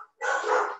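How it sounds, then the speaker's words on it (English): Dogs bark in a single loud, close burst that fills most of the short moment, following a brief quiet gap, with no talking over it. "they haven't barked all day and now they're gonna start barking"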